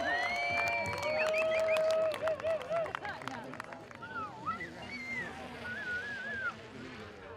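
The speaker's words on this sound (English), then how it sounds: "Another big backflip for the crowd. Let's hear it for Weston Lukens." Spectators cheer and applaud at a Hard MTB League pro invitational event after a big mountain bike backflip. The sound is a broad, steady roar of crowd noise with whistles mixed in, and it fades somewhat toward the end.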